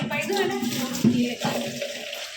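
Water splashing and trickling during washing at home, a steady running sound with a few louder splashes, mixed with faint voices in the background.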